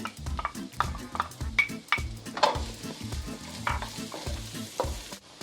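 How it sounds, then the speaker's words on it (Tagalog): Garlic hits hot cooking oil in a pan for tuna spaghetti, frying with a bright sizzle while a utensil stirs in regular strokes, close and fairly loud with no talk. "Habang kumukulo na po yung mantika, pwede na po natin ilagay ang bawang."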